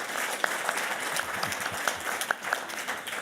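Scattered audience applause at a Davos panel debate on Ukraine and NATO, a soft, fairly distant patter of clapping with a few sharper individual claps standing out, heard alone.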